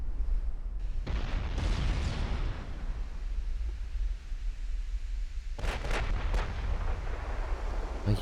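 Naval guns firing in the Ultimate Admiral Dreadnoughts game during a battlecruiser fight, a heavy booming salvo rolling out early, then a quick cluster of sharp cracks near the end, with no voices.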